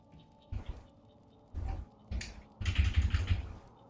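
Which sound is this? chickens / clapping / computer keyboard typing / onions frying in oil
computer keyboard typing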